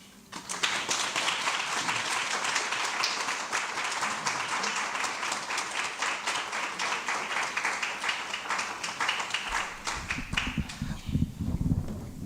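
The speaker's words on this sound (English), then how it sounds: "another round of applause, please" Audience applause at the UKZN 2022 Internationalisation Summit, a sustained round of clapping from a large room that holds steady for over ten seconds before thinning, with a low murmur near the end.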